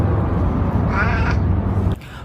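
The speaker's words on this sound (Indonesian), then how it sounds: "ini kucing ya" A cat gives one clear, close meow in the middle, heard over a steady low hum and background noise that cuts off abruptly near the end.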